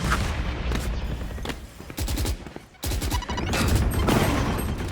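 Rapid gunfire bursts and sharp shots in a Valorant tournament match, several clusters of dense cracks with brief gaps, loud and close, over faint game ambience.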